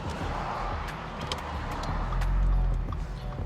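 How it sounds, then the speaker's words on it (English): A supercharged V6 Audi S4 pulls hard from inside the cabin with the windows partly up, its low engine rumble building and swelling to a peak midway before easing slightly. "so you guys can remember the sweet sound of a supercharged V6 Audi S4"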